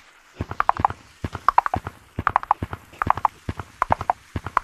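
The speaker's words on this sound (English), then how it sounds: "You can actually gallop with this horse." Cartoonish horse hooves galloping in the VR game Gorilla Tag, a fast, loud, close clip-clop in repeated rhythmic bursts of rapid hoof strikes that continue throughout.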